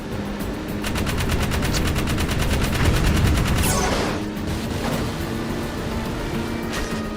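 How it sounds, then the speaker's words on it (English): Rapid automatic fire from a car-mounted gun in the Jak 3 video game, a steady loud stream of shots lasting about four seconds before stopping, with engine and game noise continuing underneath. "The gun in this car just turns to the enemy, so it soft locks."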